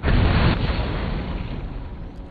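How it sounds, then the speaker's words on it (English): A bomb detonates in the video game Borderlands, giving one loud, close, booming blast that decays into a rumbling tail over about two seconds, with no talking. "go ahead and detonate the bomb."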